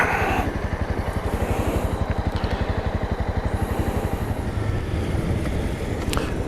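A Honda CB300R motorcycle's engine drones steadily and close as it's ridden, with a rapid, even low-pitched pulse throughout and some wind buffeting over the mic.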